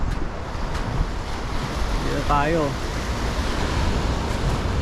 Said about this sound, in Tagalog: dito na tayo sa dagat oh